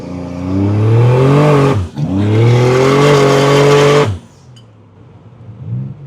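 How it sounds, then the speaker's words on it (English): A 1986 Buick Grand National with a large turbo cam accelerates hard and drifts, its engine roaring loudly up through the revs in two long pulls separated by a brief shift, then dropping to a quieter idle and a short blip. "Well, that was a little bit of drifting."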